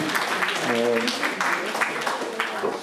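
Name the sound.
audience applause for a pastor at a concert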